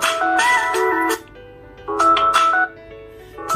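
A Samsung Galaxy Note 10 Plus plays a melodic ringtone through its top earpiece speaker, loud and bright in two bursts of tonal chimes separated by a pause, with a low hum underneath.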